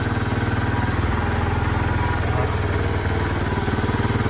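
A Honda Sonic 125 motorcycle engine idles smoothly and steadily, a close, even, low chugging with no misfires or stumbles, running alone without talk throughout.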